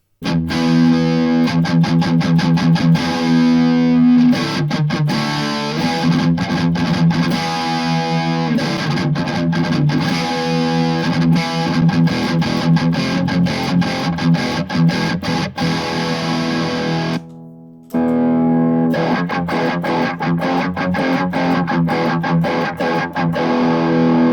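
Heavily distorted electric guitar through an MXR Custom Badass '78 Distortion pedal with distortion fully up plays continuously at a loud level, with dense chords and riffs, one brief drop near the end before resuming.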